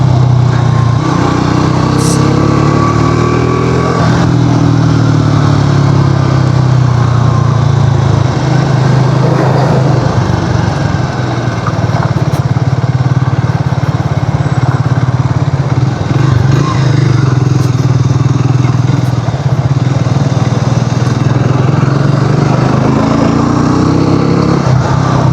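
A Triumph Speed T4 350 motorcycle engine drones steadily while riding, with pitch shifts as it changes speed and gears and wind rushing past, loud and close throughout.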